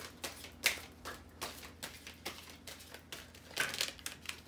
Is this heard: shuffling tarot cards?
yes